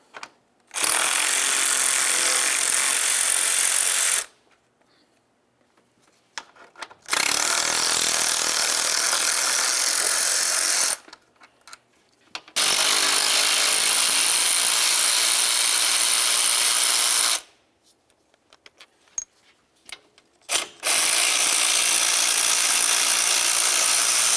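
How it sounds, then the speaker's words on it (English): A 10mm wrench ratchets bolts off the radiator fans of a 1999-2003 Toyota Solara, in three loud, sustained bursts of rapid clicking separated by quiet pauses. "Use a 10mm to start unbolting your fans from the radiator."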